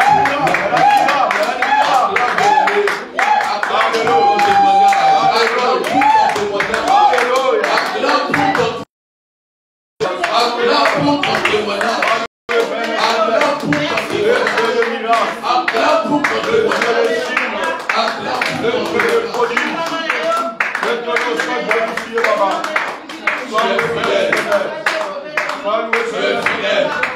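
A church congregation claps in steady rhythmic unison while voices sing and call out in acclamation, loud and continuous, with one brief drop to silence partway through.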